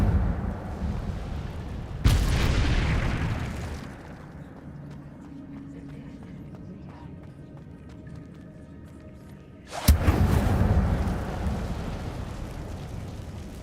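Incendio fire spell cast in Hogwarts Legacy, two loud whooshing bursts of flame roughly eight seconds apart, each fading slowly, with quieter game ambience between them.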